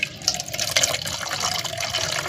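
Water from soaked fruit peels pours and trickles steadily through a strainer, a continuous close splashing stream with no pauses.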